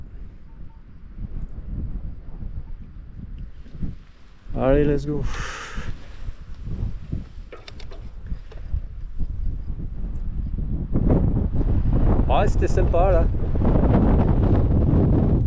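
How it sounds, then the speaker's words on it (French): Strong gusting wind buffets the microphone while riding an electric-assist mountain bike on a trail circuit near Uztarroze, with winds gusting to 40–45 km/h; a steady roar persists under brief talk throughout. "Mais bon, c'est dans plein vent quoi."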